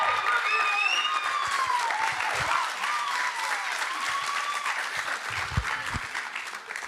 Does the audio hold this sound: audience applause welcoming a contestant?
yes